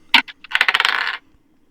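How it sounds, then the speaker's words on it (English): Real dice tossed onto a table: a sharp first clack, a couple of bounces, then a dense rattling tumble of rolling dice for about half a second before settling, close and loud with no talk. "What a great dice sound effect."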